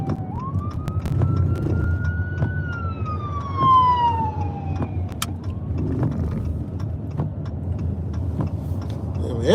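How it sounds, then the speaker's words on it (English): An ambulance siren passes through Atlanta streets, one long wailing tone rising and then sliding down over a steady rumble of traffic, loud and fairly close, with no talking. "Ambulance running behind me and everything."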